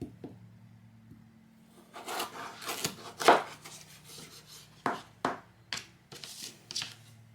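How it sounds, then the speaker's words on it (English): Knife slicing sweet potatoes into half-inch fries on a cutting board: a run of sharp, crisp chopping cuts, spaced and near, growing more regular toward the end over a quiet kitchen background. "Now I'm going to slice these about 1/2 inch in thickness"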